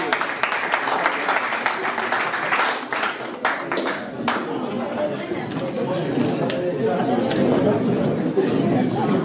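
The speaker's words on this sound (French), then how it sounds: "Applaudissements, s'il vous plaît" Applause from an audience at a gathering, a dense wash of many hands clapping under steady crowd chatter, loud and sustained throughout with a few sharper claps standing out.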